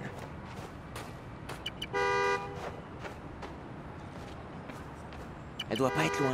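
A car horn sounds in the Spider-Man: Miles Morales video game, one sustained honk partway through and another near the end, set among street noise, with someone talking over the scene.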